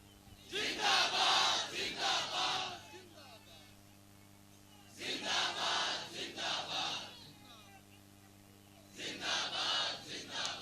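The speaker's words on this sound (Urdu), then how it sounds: "دوبارہ نعرہ لگائیں میں دیکھوں کون چپ ہے" A large crowd at a religious gathering chants a slogan in unison, three loud roaring bursts each lasting a couple of seconds, separated by brief pauses.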